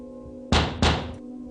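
Two heavy, loud thuds on a military barracks door in quick succession, each booming and then fading, over a faint steady hum.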